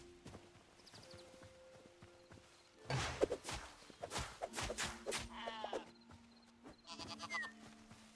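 In the video game Hytale, a sheep gives a couple of faint, wavering bleats amid soft clopping footsteps and small game effects, all quiet and somewhat distant.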